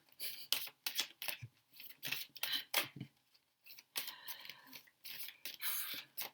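A deck of tarot cards being cut and handled up close, with repeated crisp, papery swishes and slides in quick bursts separated by short pauses.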